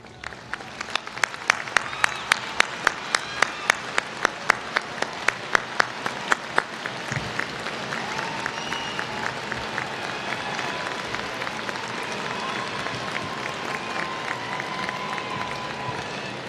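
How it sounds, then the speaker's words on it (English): A large commencement audience applauds as graduates' families stand, with a dense, steady roar of many hands clapping, distinct individual claps standing out at first, then blending into a sustained wash that continues to the end. "Please stand so we may recognize and applaud all of you."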